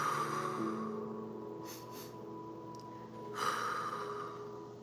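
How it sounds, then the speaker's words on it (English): Two quick sniffles through the nose, soft and close, separated by a short pause against a quiet background hum. "2 quick sniffles."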